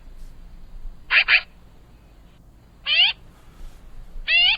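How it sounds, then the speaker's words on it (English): Three harsh, nasal calls from a black-and-white long-tailed corvid with a stout dark bill and glossy iridescent wings. The first is a quick double note, then two single calls follow at spaced intervals over a quiet background. "a striking member of the corvid family, with patchy black and white coloring, a stout dark bill, very dark, and glossy iridescence on its wing"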